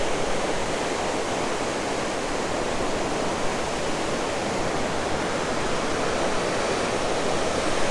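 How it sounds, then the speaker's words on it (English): Ocean waves crash onto rocks along the coast near Porto, a loud, continuous roar of surf and spray. It is close and unbroken, with no voices over it. "These waves come in and they're crashing right on like a bunch of rocks here."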